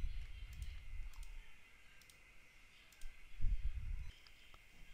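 Computer mouse clicks while navigating an API testing web app, a few faint sharp clicks spaced apart at moderate distance over a steady low hum.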